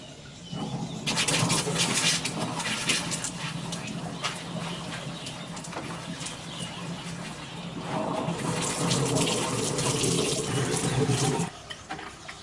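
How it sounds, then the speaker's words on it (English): Water rushes and splashes steadily through a pipe or fitting into a water filter system, growing louder partway through before cutting off near the end. "There's the water going in."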